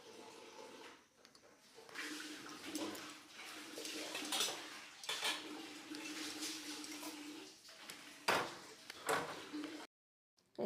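Homemade paneer being scooped from a pan onto a plate: quiet metal scrapes and clinks of a spoon against cookware, in scattered bursts.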